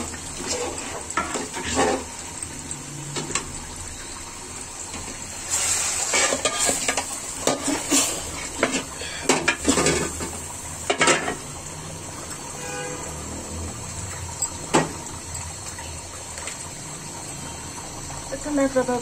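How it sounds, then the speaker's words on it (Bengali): Broth poured into a pot of cow leg nihari (paya), giving a steady liquid rush and sizzle with clinks and scraping over a continuous background hiss; no talk. "আমি এখন এটা ঝোলটা দিয়ে দিব"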